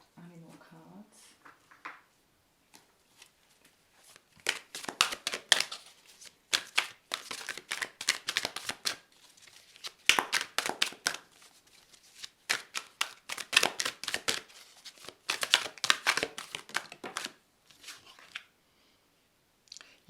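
Animal oracle cards are handled and shuffled in bursts of rapid papery riffling and flicking, fairly close and quiet, separated by short pauses.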